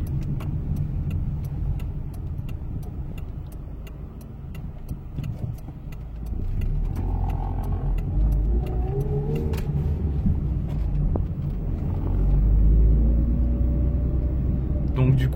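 A Mazda 323F engine idles steadily after a gearbox change, a low close rumble that rises a little partway through. Rapid regular ticking and some talk run over it.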